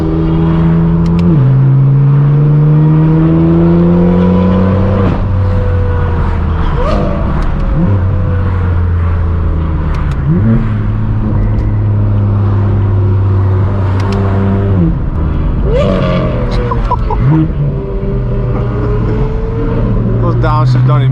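Straight-piped BMW M4 F82 exhaust, loud and close, with repeated revs rising and falling through gear changes, pops and downshifts in traffic among supercars, with someone talking over parts of it.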